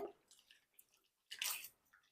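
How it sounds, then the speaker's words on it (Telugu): Veldt grape stems rinsed in a bowl of plain water, with soft drips and squishy splashes in brief bursts, a louder slosh near the middle, close and quiet without speech. "కడిగేసుకున్న తర్వాత మళ్ళీ మామూలు నీళ్ళు పెట్టి మళ్ళీ కడుక్కోవాలన్నమాట"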